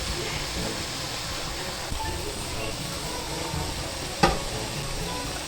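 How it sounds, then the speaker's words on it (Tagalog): Squid cooking in a pan with eggplant and green chili for adobo sa gata, giving off its water; a steady soft sizzle and bubbling runs throughout, with a sharp clack near the end and no talk. "ipapalabasin lang po yung mga tubig galing sa pusit"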